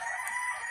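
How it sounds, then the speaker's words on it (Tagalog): A brief, sustained rooster crow on a farm, moderately loud and held steady, with no talk. "Ito ang ating mga manok din to."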